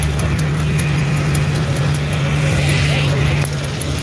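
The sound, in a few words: loud vintage snowmobile engine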